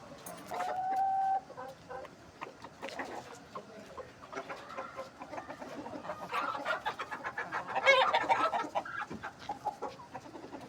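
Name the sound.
chickens clucking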